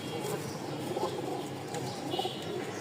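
A pair of sky-blue Rajgolla pigeons cooing softly in low repeated murmurs, close by, with faint chirps and background noise.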